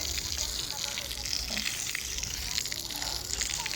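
Water spraying onto a new concrete slab the morning after casting, with puddles pooling on an uneven rooftop surface; a steady hissing spray runs throughout at moderate level, with faint talk in the background.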